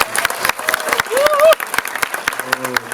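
A cinema audience at a film talk event applauds lawmaker Pyo Chang-won with brief, scattered clapping, while a voice speaks over it.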